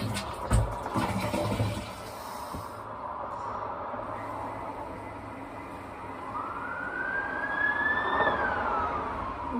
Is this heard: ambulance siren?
yes